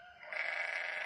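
A sheep bleats loudly and steadily for about a second, one sustained wavering call with no talk over it.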